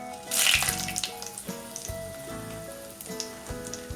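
Dried red chillies dropped into hot oil with fennel seeds already in the pan, giving a sudden loud hiss that fades into a steady frying crackle, with occasional light taps of a utensil.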